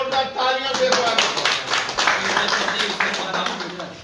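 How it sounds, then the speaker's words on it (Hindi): A crowd at a political party joining event claps steadily to welcome new members, the brisk applause mixed with voices talking and calling out underneath. "जोरदार तालियों से स्वागत।"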